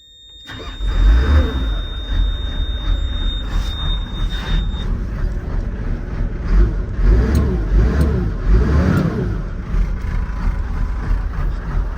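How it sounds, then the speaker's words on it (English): A Cummins diesel truck engine starts and runs steadily at close range, with a low rumbling idle and a slight rhythmic lope, plus a couple of louder revs. "Engine sounds really good on it."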